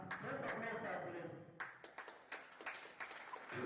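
Audience applause at a GIS innovation workshop: a dense burst of clapping that thins into scattered, uneven claps toward the end.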